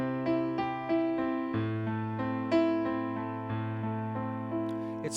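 Piano sounds a low bass note, then right-hand triad chords repeat in steady triplets across a simple progression, soft and even, with the bass changing midway; no one speaks.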